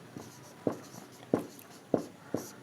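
Pen or chalk strokes writing out a geometry proof on triangle similarity in a class 10 maths lesson, four or five distinct taps and scratches at a steady rhythm, close and moderately loud with no talk.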